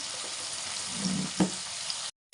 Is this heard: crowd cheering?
no